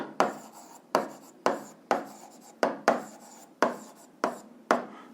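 Pen strokes writing an answer by hand on paper during a physics exercise, a series of about nine sharp, close taps or scratches, each starting crisply and trailing off, spaced roughly half a second apart with no talking.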